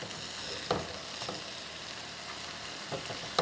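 Eggplant slices fry in a pan over a medium flame, giving a steady, close hiss and sizzle with a few soft pops and clicks throughout.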